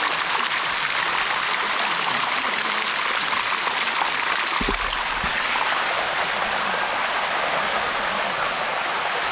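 Water streams steadily down the Sticky Waterfall in Thailand, a loud, continuous close-up rush with a brief low thump partway through.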